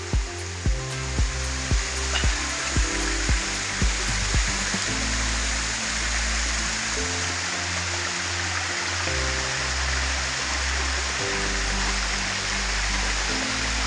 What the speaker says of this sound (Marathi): छोटं धबधबा असलं तरी पाणी भरपूर आहे एकदम